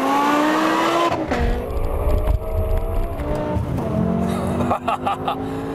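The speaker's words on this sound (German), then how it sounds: "wenn du hier die Gänge durchschaltest, dann hast du jedes Mal das Gefühl, dass dir die Hinterachse rausreißt" BMW M6 tuned by G-Power to 750 hp accelerating hard through the gears, engine pitch climbing and dropping at each upshift, loud and close, with a faint voice in the background.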